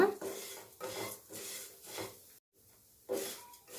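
Thick poha roasting in a dry pan for aval payasam, scraped and stirred in rhythmic bursts of gritty rustling with short pauses between strokes, close and moderately loud, no voices.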